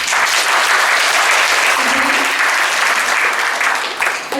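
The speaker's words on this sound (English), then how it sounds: "Ladies and gentlemen, please join us in giving them another big applause." Conference audience applauding speakers after a panel discussion, a loud, sustained burst of clapping from a hall crowd, no voices over it.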